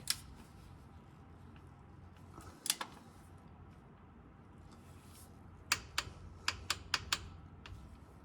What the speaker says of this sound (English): make sure it's torqued to spec